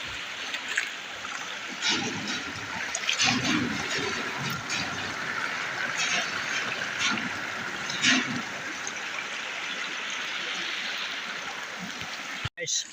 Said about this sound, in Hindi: देख गाइस पानी गिरता है